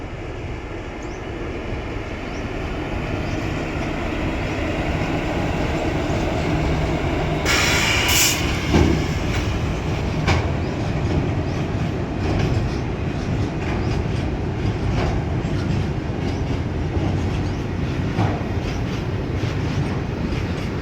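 A Bharat Petroleum gas freight train rolls past near New Sanjali Junction on the Western Dedicated Freight Corridor, a loud, close, continuous rumble of wagons with rhythmic wheel clatter and a brief high squeal partway through.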